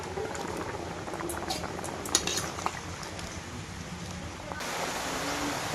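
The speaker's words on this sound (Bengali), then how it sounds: "তরকারি কিন্তু বন্ধুরা ফুটে উঠেছে" Curry boiling in a pot on a rainy day, bubbling softly and steadily at a moderate distance, with a few faint clinks of kitchenware.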